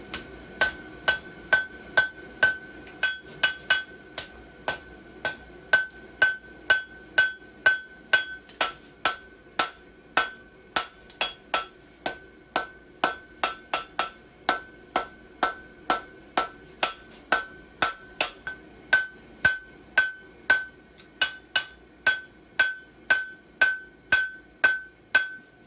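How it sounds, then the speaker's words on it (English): Steel bar being forged on an anvil for a horse hoof template, struck by a hammer in a steady, even rhythm of sharp ringing blows that carry on for the full stretch, with no talking. "so now we're just going to forge it into a bar"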